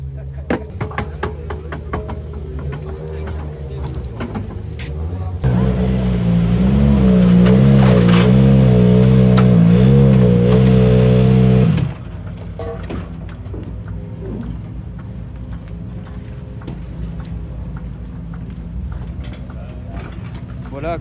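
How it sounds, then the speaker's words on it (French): Rally cars at the Monte-Carlo Rally 2022 service zone: a loud, steady engine drone swells in for several seconds and then drops back to a quieter bustle of idling motors and background activity. "Voilà à quoi ressemble la zone d'assistance du coup du Monte Carlo 2022."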